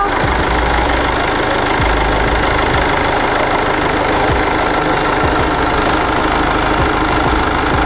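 A first-generation Mini Cooper SD Countryman diesel engine idles steadily in the engine bay, a loud, even low rumble with a constant tone and no talking.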